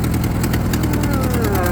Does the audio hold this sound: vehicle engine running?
yes